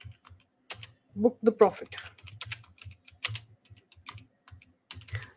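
Typing on a computer keyboard while writing a message, with steady clicking keystrokes in short bursts mixed with a person talking over them.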